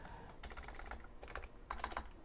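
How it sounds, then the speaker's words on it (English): Quiet typing on a computer keyboard while coding a Raspberry Pi Pico with an SSD1306 OLED display, in irregular bursts of soft, rapid key clicks separated by brief pauses, close and alone. "we could start typing in our stuff like over here"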